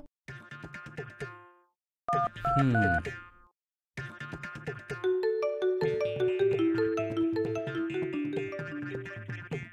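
Electronic beeps and short melodic tones sound in quick bursts as a telephone keypad is dialed to call customer care. A longer run of tones follows after two brief gaps, and no one speaks.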